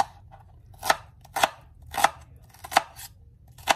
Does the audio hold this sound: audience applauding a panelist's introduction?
no